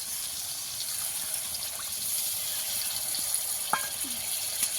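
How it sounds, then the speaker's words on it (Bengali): A little water poured into a pan of frying spices for a chicken and potato curry: a soft, quiet hissing gush with faint scattered clicks, no voices. "সব কিছু ভালো করে একটু ভেজে নিয়েছি সামান্য একটু জল দিয়ে দেবো"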